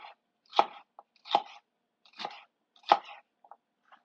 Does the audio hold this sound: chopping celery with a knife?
yes